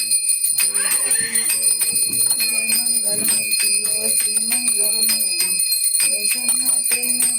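A small bell rings continuously and rapidly with a bright metallic tone while people sing a devotional aarti chant together at home.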